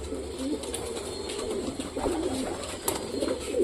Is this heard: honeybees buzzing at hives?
no